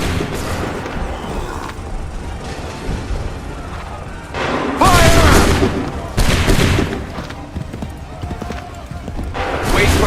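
A musket volley in Assassin's Creed 3 on a battlefield with horses, heavy crackling bursts of massed shots layered over clopping hooves and constant noise, with shouted commands mixed in.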